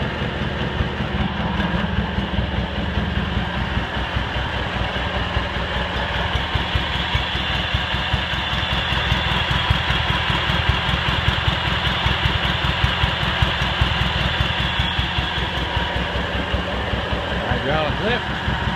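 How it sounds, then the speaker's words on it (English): A Cub Cadet 782 garden tractor engine, freshly carburetor-adjusted, idles steadily and close by for the whole stretch with a rapid even throb, while someone talks over it now and then. "So, starts right up after I adjusted the carburetor."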